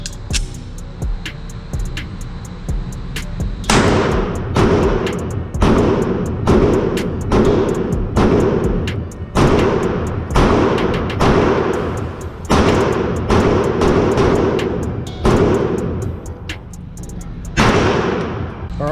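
Rapid, sharp gunshots from a Glock 43X pistol loaded with 15-round magazines crack close and loud in irregular bursts, each report followed by a brief decay.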